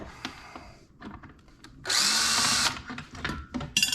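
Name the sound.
power drill with Milwaukee bits removing ceiling fan blade screws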